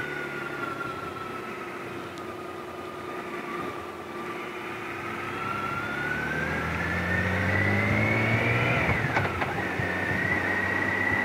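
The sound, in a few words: BMW K1600GT motorcycle engine accelerating with quickshifter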